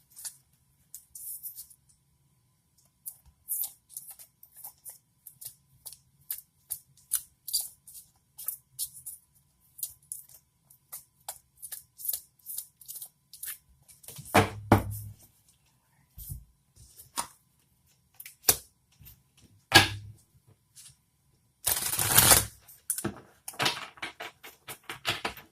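Oracle cards are shuffled in quiet bursts of soft riffling and tapping, sparse at first, then several louder flurries of card shuffling later, close and with no talking.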